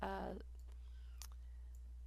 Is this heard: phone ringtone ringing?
no